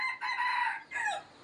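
A rooster crows loudly and close by among coops packed with F1 chickens, one drawn-out call breaking briefly before a shorter rising tail.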